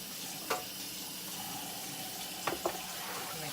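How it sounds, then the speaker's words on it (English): A kitchen tap runs in a faint, steady hiss while chickpeas are rinsed, with a few soft clicks and knocks near the start and end. "Give it a quick rinse."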